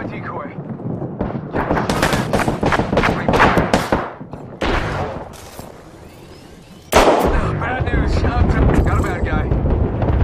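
Gunfire in the Apex Legends battle royale game, bursts of shots crackling through a busy stretch of combat noise, with an abrupt loud burst near the end, mixed under game effects and voice lines.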